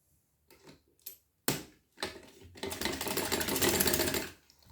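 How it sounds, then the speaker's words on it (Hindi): A sewing machine stitches the back side of a frilled frock suit. A few short starts and stops give way to a loud continuous run of rapid stitching, close up, then it stops. "बैक साइड में किया और यहाँ से हमने सिलाई कर दी"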